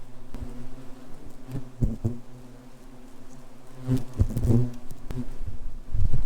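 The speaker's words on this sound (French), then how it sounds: "T'as un mélange de guêpes, de frelons et de pommes qui te tombent dessus." Wasps and hornets buzz loudly up close among falling apples, droning and swelling as they pass near, with a few sharp rustles and bumps in between.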